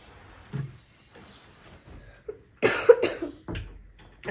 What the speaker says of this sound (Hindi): इसकी खांसी इसलिए नहीं जा रही